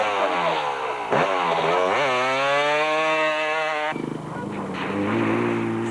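A Yamaha quad races at the Stokkiesdraai 200 off-road event, its engine revving hard with rising and falling pitch, a brief dip as it shifts, then climbing again, loud and close with no voices.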